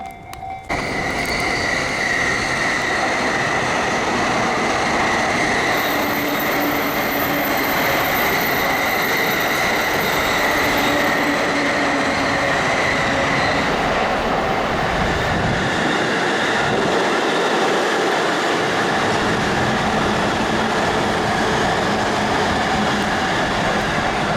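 Trains rumble steadily and loudly through a long pedestrian railway crossing in Japan, with wheel noise and rail clatter running continuously. Bells or squealing tones drift overhead, and there is no talk.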